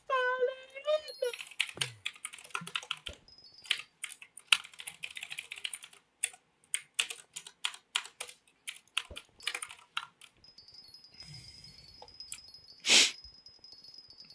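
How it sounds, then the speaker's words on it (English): Rapid clattery keystrokes on a computer keyboard come in uneven bursts, close and fairly crisp, with a short vocal sound at the start and a sharp noise near the end. "Local streamer can't type on her keyboard."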